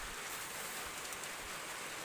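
Steady, even hiss of rain falling over a farm garden during the first rain of the season, a constant wash of drops with no distinct breaks or other sounds.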